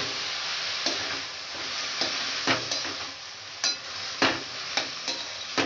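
Fresh spinach sautéed in a pan, giving a steady close sizzle punctuated by distinct spatula scrapes and knocks about once a second, with no talking.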